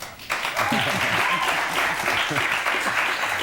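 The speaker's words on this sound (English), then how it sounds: "You may clap." A studio audience claps steadily for several seconds, dense and close, with voices audible underneath.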